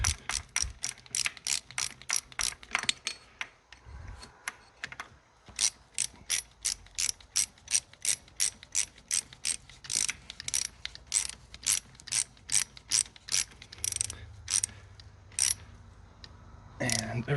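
Ratchet wrench tightening a long bolt on a donor car, a steady series of sharp clicking bursts in a repeating back-and-forth rhythm, close and clear, with brief pauses between strokes.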